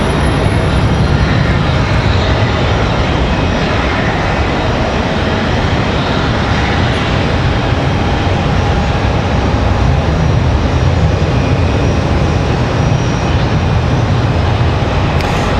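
PSA Airlines CRJ 900LR regional jet departing Charlotte Douglas airport, a loud steady broadband roar of jet engines lasting the whole stretch without talk.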